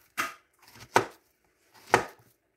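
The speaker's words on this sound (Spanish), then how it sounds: "ahora los voy a cortar para que se cosan más rápido" A knife cuts peeled plantains into thin slices on a board, three distinct close chops spaced about a second apart, each a crisp thud with a short softer cut before it.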